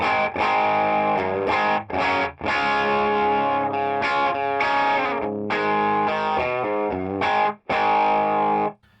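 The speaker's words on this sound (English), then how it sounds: "we're on the lead gain channel, and this is what the organic tone of the guitar is" A heavily distorted electric guitar on a high-gain amp's lead channel plays sustained chords and riffs, thick and saturated, with brief pauses between phrases and no other sounds.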